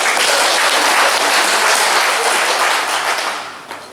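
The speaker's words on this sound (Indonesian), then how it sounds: "Mari kita tepuk tangan untuk" An audience applauds, a dense and loud wash of clapping that holds steady for a few seconds and then fades.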